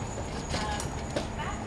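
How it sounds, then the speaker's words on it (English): Horses walking along a road near traffic, their hooves clip-clopping in a steady uneven rhythm at moderate distance, with faint background noise throughout. "We always need to have another horse with Gus in order to hold his hoof every now and again when he gets a little bit scared by the traffic"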